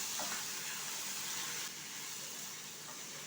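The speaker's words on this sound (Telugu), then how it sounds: "ఈ ఎండుమిర్చిని కూడా ఇలా కొద్దిసేపు ఇలా ఫ్రై చేసుకోవాలి" Dried red chillies frying in oil with tomatoes for an onion-tomato chutney, a steady close sizzle and hiss throughout with a slight drop in level midway.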